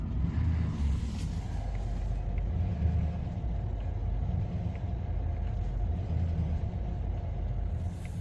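A truck sits with its trailer stuck on ice, producing a steady low engine rumble and road-vehicle drone throughout, close and continuous, with no distinct changes in the rocking motion.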